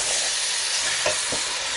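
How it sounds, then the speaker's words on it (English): Garbanzo beans and pork with paprika get stirred in a hot pan. A dense, close sizzle runs throughout, broken by a couple of brief scraping strokes. "And give that a stir."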